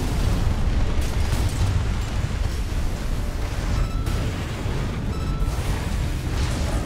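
An enemy in Armored Core 6 fires a Moonlight energy weapon, and heavy booming blasts and bursts roll over one another through a loud, dense combat mix with no voices.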